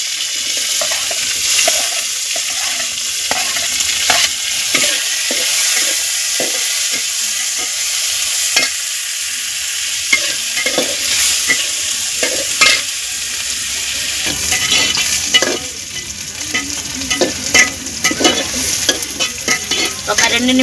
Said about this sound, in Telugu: ఒక 2 నిమిషాలు మూత పెట్టుకొని ఆనియన్స్ ఫ్రై చేసుకున్నామండి.